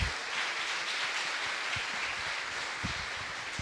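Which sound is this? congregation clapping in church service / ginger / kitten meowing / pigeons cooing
congregation clapping in church service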